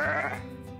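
A single sheep bleat sound effect, loud and close, a wavering nasal cry that trails off in under a second.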